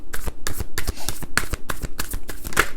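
Tarot cards being shuffled by hand, a steady run of close, crisp riffling bursts repeating roughly every quarter second, loud and alone with no talk over it.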